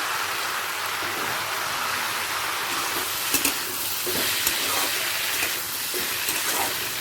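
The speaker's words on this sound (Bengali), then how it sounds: "আবারও ঢাকা দিয়ে ভাজতে ভাজতে সেদ্ধটা করে নেব" Potato and pointed gourd curry fries under a lid in a pan, a steady, even hiss of sizzling that fills the whole stretch with only faint crackles and no talking.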